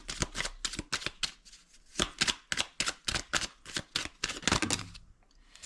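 Tarot or oracle cards shuffled by hand for a reading, a series of crisp riffling bursts in a quick irregular rhythm, close and fairly quiet, with no talk.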